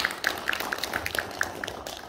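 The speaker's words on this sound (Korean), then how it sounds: "다시 한번 응원의 박수 부탁드립니다." An audience claps at a book launch event for a chronicle of President Kim Dae-jung, with light, fairly regular claps sounding faint and sparse in a quiet hall.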